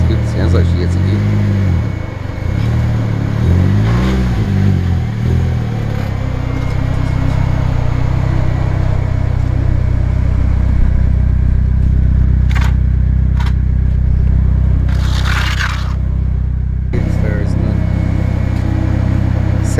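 A Nissan Silvia S14 engine pulls hard and climbs through the gears on the street, a loud rising drone with a shift partway through, then a steadier roar with a few sharp scrapes and knocks near the end.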